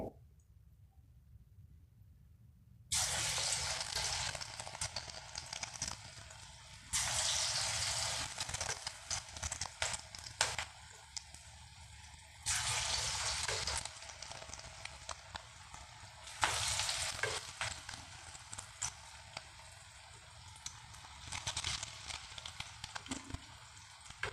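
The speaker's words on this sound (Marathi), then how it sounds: "राहिलेलं भज्याचं पीठ सोडून घ्यायचं तेलामध्ये" Moong dal bhaji batter drops into hot oil in bursts of broad sizzling hiss, each settling into a steady low bubbling frying sound between pours, no one speaking.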